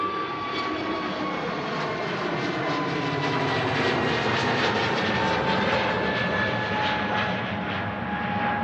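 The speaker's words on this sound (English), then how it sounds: "Another aircraft on the roll. I think it's a A320neo with EasyJet." EasyJet Airbus A320neo jet on its takeoff roll at Manchester Airport, a steady, powerful engine roar with a high whine, sustained and evenly loud throughout.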